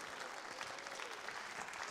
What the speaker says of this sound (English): let's give a lovely lady a nice round of your applause